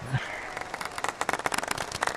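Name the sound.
crowd applause in Golf+ video game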